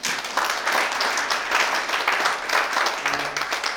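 Steady applause from a crowd, continuous clapping throughout with no talk over it.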